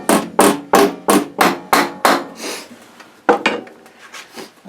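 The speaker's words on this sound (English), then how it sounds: "I hammered it a little harder than I thought" Metal being hammered into shape for a woodstove oven top: a quick run of about seven sharp, ringing blows, then a pause and a few softer, irregular strikes, close and loud with no voices.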